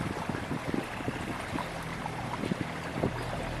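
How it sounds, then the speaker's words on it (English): Steady wind blowing over open water as a pontoon boat nears a dock, a constant broad rush with light low thumps and rumbles from the boat, no voices. "The wind is blowing a little bit from the left to the right"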